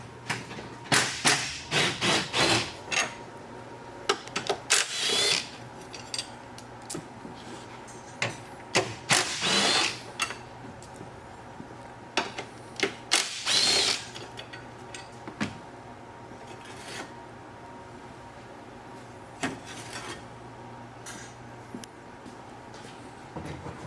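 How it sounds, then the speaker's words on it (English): Strut tower mounts come off a Kia Stinger in a garage, heard as scattered close clicks, knocks and clattering taps of tools and parts at irregular intervals over a faint steady hum. "We're going to go ahead and pull off the strut tower mounts."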